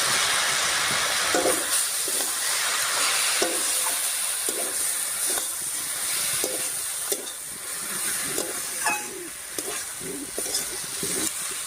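Ground spice paste fries with bottle gourd in a pan, producing a loud continuous sizzle and hiss, with repeated stirring scrapes and clinks cutting through at close range.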